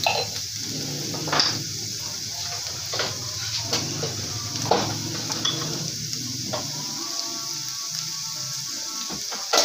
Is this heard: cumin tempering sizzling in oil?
yes